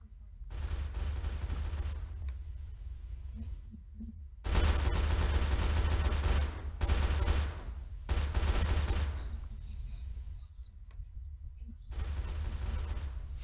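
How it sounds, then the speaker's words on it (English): Heavy bursts of gunfire aimed at a Humvee in Roblox Apocalypse Rising, loud automatic volleys coming in several long runs separated by short gaps. "Is that Humvee that I'm shooting at right now?"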